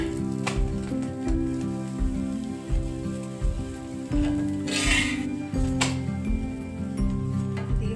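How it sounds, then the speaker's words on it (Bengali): Pea-stuffed kachoris sizzle and crackle as they fry in hot oil, a steady bubbling hiss broken by occasional bursts and spatters, heard nearby over faint background tones and without talk. "এদিকে কচুরি ভাজা চলছে"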